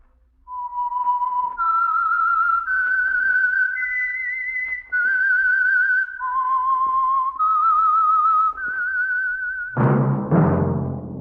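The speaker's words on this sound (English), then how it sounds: "That whistle is your signal for the Signal Oil program, The Whistler" A lone whistler carries the melodic theme for The Whistler, a 1948 Signal Oil radio drama, in clear sustained notes stepping up and down, followed by a sudden loud orchestral chord sting.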